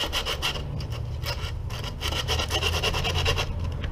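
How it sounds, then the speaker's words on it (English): Coarse 80 grit sandpaper is rubbed back and forth over rough spots in quick, rhythmic strokes, a close, continuous rasping scrub with no voices. "I'm just using the sandpaper right now. This is 80 grit sandpaper, just to try to get all the heavy stuff off"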